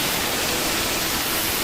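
Steady broadband hiss of water spraying onto burning boats in Roblox Brookhaven, a constant even rush with no breaks.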